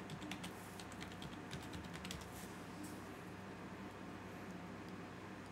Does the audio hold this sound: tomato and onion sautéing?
no